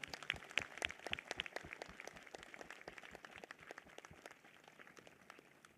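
A church congregation clapping their hands in thanks during a prophet ministry service, a burst of fairly faint, crisp claps that starts lively and thins out toward the end, sounding somewhat distant.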